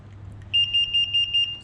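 A Tesla Model X electric frunk kit gives a run of about eight evenly spaced, sharp electronic beeps as its speed setting is selected, loud and close over a low background hum.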